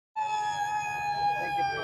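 A person imitates a Bigfoot scream, letting out a single sustained, high, piercing wail that sounds almost siren-like and holds steady for under two seconds.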